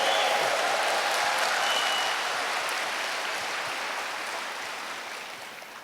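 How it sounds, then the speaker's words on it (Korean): An audience at a corporate celebration gives a sustained, dense burst of applause. It is loud at first and slowly fades over several seconds. "다시 한번 우레와 같은 큰 박수 부탁"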